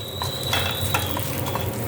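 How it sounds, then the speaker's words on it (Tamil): Urad dal frying in a pan over medium gas, a steady soft sizzle and crackle with a few light stirring scrapes, close and continuous without talk. "ஃபஸ்ட்டு இந்த உளுத்தம்பருப்பை போட்டு வறுத்துடுறேன்"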